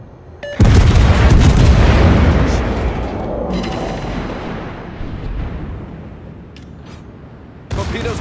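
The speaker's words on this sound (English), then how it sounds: "Destroyer blown up" Destroyer blown up in World of Warships: a sudden, loud deep boom hits early and rumbles away over several seconds, and a second sharp blast comes in near the end.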